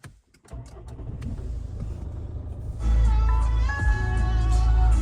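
A 2009 Ford Kuga 2.0 diesel with keyless start cranks briefly after a few clicks, then fires into a loud, steady, close-up idle rumble that continues to the end.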